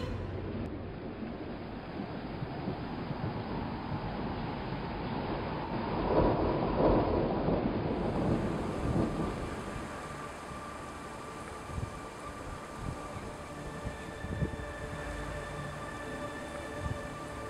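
Wind-driven stormy weather in a snowy winter landscape, a broad steady roar of wind and rain swelling in the middle and then easing, with low rumbles underneath, continuous and enveloping, no voices.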